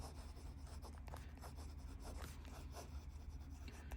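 A Lamy fountain pen writes on paper, giving quiet, close scratching strokes in a continuous irregular rhythm over faint background hum.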